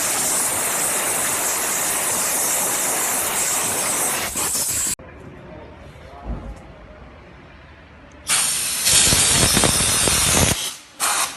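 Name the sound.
steam washing a Peugeot 103 moped engine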